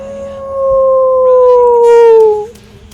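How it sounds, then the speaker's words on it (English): A white Arctic wolf lets out a single long, steady howl that holds a level pitch for about two seconds before dropping off. It is loud and clear, with faint higher yips overlapping midway. "The howl just came out."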